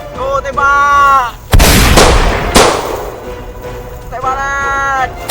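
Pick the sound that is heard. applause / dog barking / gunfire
gunfire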